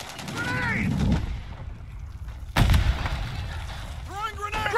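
In a Call of Duty MWIII firefight, a grenade bursts in one loud, sudden blast midway, surrounded by scattered gunfire and shouting voices.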